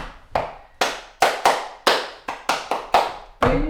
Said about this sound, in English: boom, snap, clap, ba-boom, snap, clap